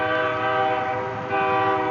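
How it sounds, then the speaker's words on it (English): A passing train blasts its horn in one loud, sustained, multi-tone blare lasting about two seconds. The horn is heard alone, with no talk. "And the train is gone, but still blaring its horn"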